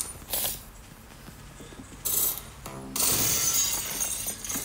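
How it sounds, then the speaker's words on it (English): Glass shatters in the Bedwars video game, with sharp crackling bursts, a ratcheting mechanical clatter and a final long crash of breaking glass, loud and close with no talking. "I don't know if I can shatter the glass."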